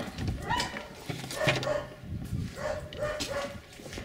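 Several dogs bark in short, irregular yips and bow-wows, with some whimpering between them, heard faint and fairly distant over a quiet background.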